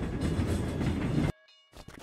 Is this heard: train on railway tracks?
yes